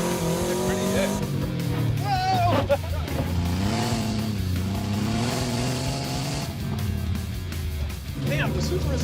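A Subaru on an off-road rally course accelerates hard with loud, continuous engine revving that rises and falls, with tire noise throughout and people talking excitedly over it.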